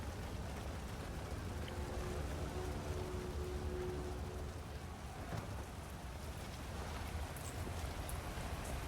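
Steady rain falls in a continuous, even hiss of drops on surfaces, moderately soft and unchanging throughout, with a faint low rumble underneath and no voices.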